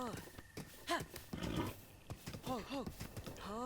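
A wild horse in the video game Zelda: Breath of the Wild gives a series of rising and falling whinnies and snorts, moderately loud and spaced through the moment, over faint game background.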